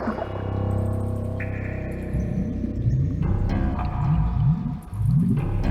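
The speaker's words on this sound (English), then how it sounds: "The sound effect, the gurgling water, is a sign that the water exupy is nearby." Gurgling water effect from the video game Shivers, a low, warbling, echoing bubble that rises and falls in repeated swells over a droning musical tone, no voices.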